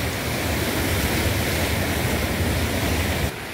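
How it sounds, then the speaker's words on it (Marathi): Rough sea surging onto the shore where crabs gather, a loud continuous wash of broadband surf noise that roars steadily for over three seconds before dropping slightly at the end. "हे बघा समुद्र पण किती उसळत आहे"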